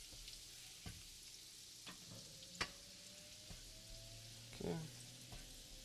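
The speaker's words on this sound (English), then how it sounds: "Stir the butter around the garlic so that it doesn't" Butter sizzles steadily with garlic in a hot pan, a soft crackling hiss punctuated by scraping stir strokes and occasional clicks. A brief spoken word comes in.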